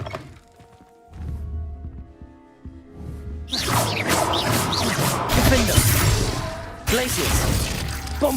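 Bombarda blast spell in the Hogwarts Legacy video game, a loud close crashing explosion with shattering debris following a quieter stretch of game ambience, and voices are heard alongside.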